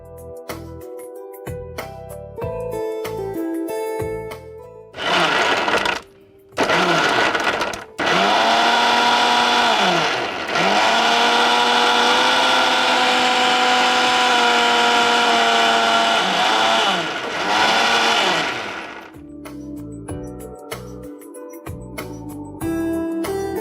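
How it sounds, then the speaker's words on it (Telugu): A kitchen mixer blender whirs loud and close, blending strawberries, flax seeds, water and ice cubes into a smoothie, running in a couple of short pulses and then one long steady grind before stopping. "మనం మిక్సీ పట్టిద్దాము"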